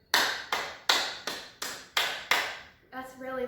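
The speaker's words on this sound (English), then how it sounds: "Now try clapping as loud as you can." Children in a dance class clap as loud as they can, six sharp, evenly spaced group claps close by, each ringing briefly, followed by a short voice.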